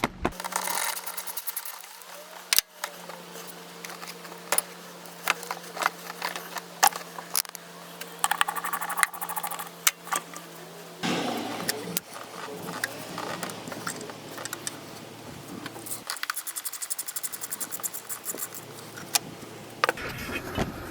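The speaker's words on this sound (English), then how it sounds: "I'm going to go ahead and take off the intake tube from the throttle body" An intake tube is worked loose from the throttle body of a Nissan 240SX, giving sparse, close metallic clinks, clicks and small clanks of clamps and tools at irregular intervals over quiet background.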